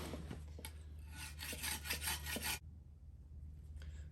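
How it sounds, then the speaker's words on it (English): Metal blade being sharpened by hand with a rough stone or file, a run of harsh rasping strokes in quick rhythm, close and clear, then stopping to a quiet hiss. "It's gonna tear my hands up just sharpening this back."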